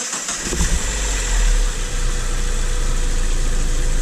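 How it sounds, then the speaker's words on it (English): A Mazda MX5 engine cranks and fires up after a cooling system flush, catching quickly and settling into a steady, loud close idle with a deep rumbling drone. "Put the cap back, and now you can start the motor."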